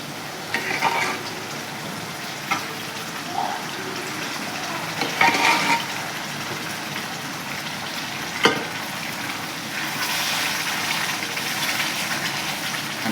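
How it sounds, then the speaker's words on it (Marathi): Cooked dal goes into a hot pan of tempered spices for Rajasthani dal-baati, with a continuous sizzling hiss, a wet sloshing rush, and scattered knocks and scrapes of a spoon stirring close by. "आता आपण तयार केलेली शिजलेली डाळ घालूया।"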